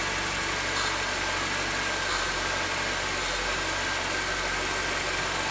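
A car engine idles at a raised speed of about 1500 RPM while an idle air control valve is being repaired, producing a steady, loud, close mechanical drone with an even hum and no talking.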